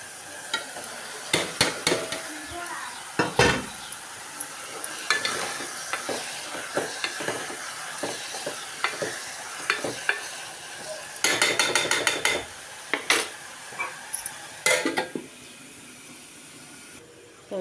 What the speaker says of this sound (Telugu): ఇప్పుడైతే టమాటాలు కూడా వేసుకుంటున్నాను.